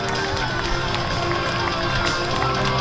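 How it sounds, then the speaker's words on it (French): Spectators at the finish of the Maraisthon 12 km race clap and cheer in a steady dense wash of applause, with voices mixed into the crowd noise as a runner arrives. "avec vos applaudissements s'il vous plaît"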